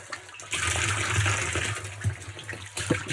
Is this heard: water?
yes